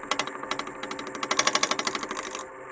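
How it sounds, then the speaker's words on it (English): Roughing gouge knocking the square corners off a spinning wood block on a lathe: a rapid, rhythmic chatter of sharp hits, building and steady through the cut, close and loud, then dropping to a lighter whir. "use our roughing gouge, and that's exactly what the name says. That's for getting the edges off of the corner of the block"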